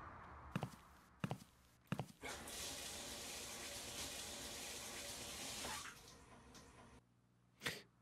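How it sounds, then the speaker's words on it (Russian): Shower water runs in Toilet Management Simulator, a steady broadband hiss lasting several seconds, framed by a few short knocks and footstep-like taps before and after. "пройдите с девушкой в душ"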